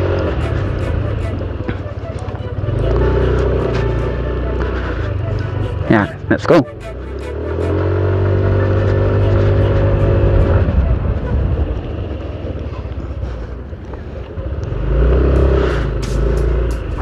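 A Yamaha Nmax 155 scooter engine drones loudly and rises as it accelerates, then drops sharply as the rider brakes hard, with wind noise throughout and a rider talking over it.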